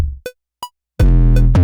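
Fat, heavily processed 808 bass for a hip hop based K-pop track: two short plucked tones give way to a loud, sustained, distorted low boom with thick harmonics, played alone.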